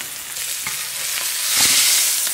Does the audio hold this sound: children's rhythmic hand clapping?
no